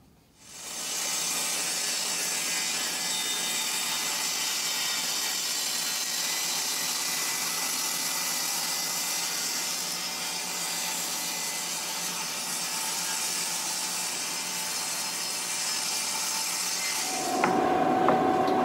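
A saw makes a long, steady first taper cut through wood with a constant loud whirring hiss. The hiss runs unbroken for about sixteen seconds, then cuts off near the end as a different, brighter noise rises.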